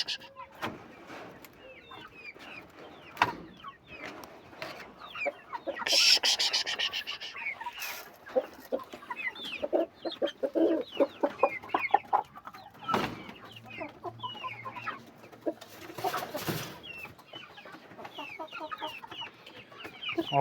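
Chickens cluck and squawk steadily in a poultry coop in Andijon, Uzbekistan, with an occasional crow and some clattering nearby, while a person talks over the flock throughout.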